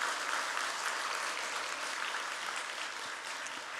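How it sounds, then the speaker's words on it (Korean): A church congregation at a pastor's installation service claps steadily in the sanctuary. The dense, even applause holds at moderate volume throughout with no talking over it. "우리 말씀 전하신 목사님께 큰 감사의 박수 올려드립니다."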